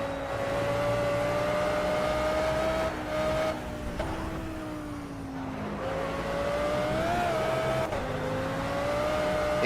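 A race car engine in a racing video game drones steadily at high revs throughout, with shifting pitch as it accelerates and eases through corners, loud and close with no talk.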